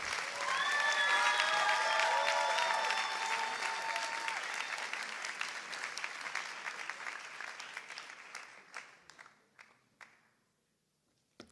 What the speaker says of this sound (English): Can I have a round of applause for Azadika Saputra?